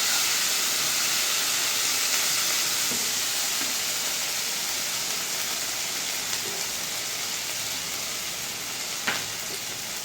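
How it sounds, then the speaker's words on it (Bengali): Spice paste of ground cashew and ginger sautéing in a pan for a yogurt-based aloo paneer curry gives a steady, close, loud sizzling hiss throughout, with faint stirring touches and no talking. "মশলাটাকে বেশ কিছুক্ষণ কষাতে হবে"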